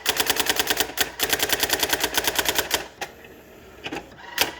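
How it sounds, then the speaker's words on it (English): A Brother GX-6750 electric typewriter types out its test line in fast, evenly spaced mechanical strikes, a rapid steady run of clacks, then a pause with a few scattered keystrokes. "This is basically telling you or typing out the test for it."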